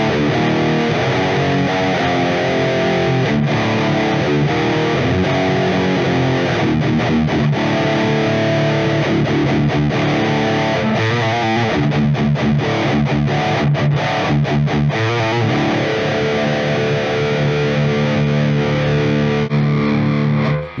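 Heavily distorted electric guitar played through an ENGL Savage 120 amp plugin into an ENGL Pro 4x12 cabinet, with dense, loud, continuous riffing and palm-muted chugs and no talk.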